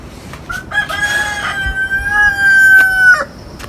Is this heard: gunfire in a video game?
no